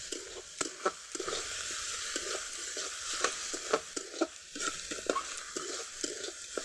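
Crushed ginger and garlic sauté in a pan for a chicken and green pea curry, giving a constant moderate sizzle broken by regular scraping and tapping strokes as the mixture is stirred.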